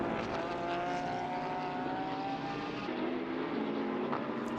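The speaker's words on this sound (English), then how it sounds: "Love the sound of that 992 GT3R" Porsche 992 GT3 R race car engine during a GT Winter Series race at Valencia, a steady droning roar with a rising and shifting pitch, moderately distant and sustained throughout, no talking.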